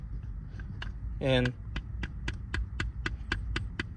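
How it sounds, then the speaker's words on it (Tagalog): A running Yamaha SZ motorcycle engine with a worn crankshaft gives a regular, evenly spaced knocking tick, close and fairly quiet, while a voice briefly speaks over it. "So ito nga pala yung tunog ng crankshaft niya."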